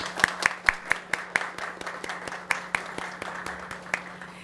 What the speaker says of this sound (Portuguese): pedir uma salva de palmas para eles